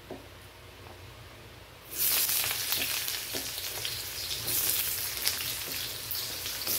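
A large onion drops into a hot pan and frying breaks out abruptly, a loud, dense sizzle that continues steadily, following a short stretch of quiet.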